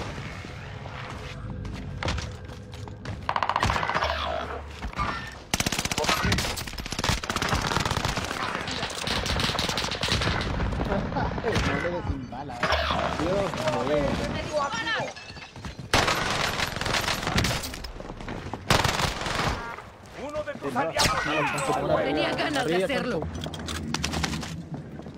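Rapid bursts of gunfire in the video game Warzone, repeated across the stretch with booming shots and thuds, loud and dense, mixed with people talking over the game.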